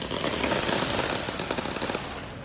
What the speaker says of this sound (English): Protesters continuing to set off fireworks.